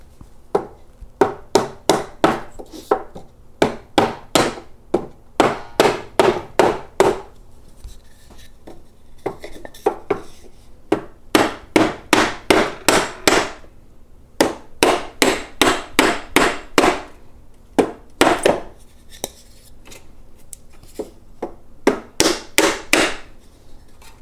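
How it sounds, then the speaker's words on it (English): A block of wood gently tapped to drive a part out of Sherman pedal hangers gives bursts of rapid, close, sharp knocks in quick runs, separated by short pauses, and no talking. "I'm going to use a block of wood and just gently tap"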